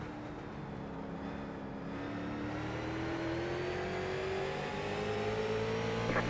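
A street stock race car engine in iRacing on the Texas 2009 legends oval drones with a rising whine as it climbs in pitch under throttle, steady and continuous throughout.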